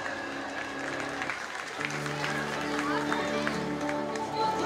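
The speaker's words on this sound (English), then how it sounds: "Parents, give them a big loud applause." Parents clap together at an Indian school's annual sports day, a crowd applauding steadily under a voice and ringing tones that fill the space, growing slightly louder toward the end.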